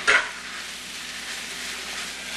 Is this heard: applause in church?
no